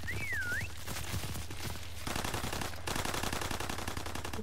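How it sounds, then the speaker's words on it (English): Rapid automatic gunfire rattles continuously in the World War II shooter Call of Duty WW2, dense repeated bursts of game shots up close, with a brief whistling sound at the start. "He's being shot at."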